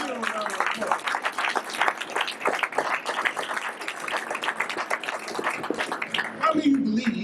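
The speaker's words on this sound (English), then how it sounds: "Please give them a round of applause." A mosque audience gives a round of applause for first-time visitors, with uneven clapping mixed with voices and crowd noise over several seconds.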